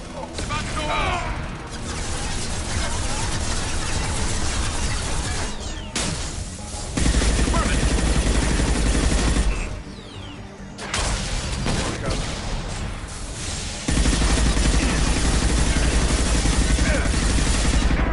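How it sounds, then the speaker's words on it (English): Mass Effect 2 combat gunfire, sustained loud rattling bursts with heavy booms and crashes over about eighteen seconds, with short lulls between volleys and voices talking over parts of it. "Firing a high-impact shot."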